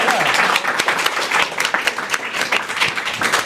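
Audience at a real estate brokerage event gives a round of applause, dense close clapping from many hands with crisp individual claps standing out, steady and sustained.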